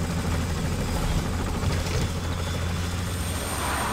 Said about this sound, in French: Et un petit tour en hélico.